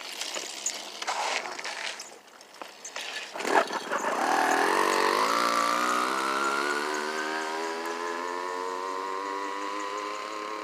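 An 80cc Chinese two-stroke motorized bicycle revs up and buzzes down a city street, the engine's whine climbing steeply in pitch and then holding a steady high drone as the bike rides away.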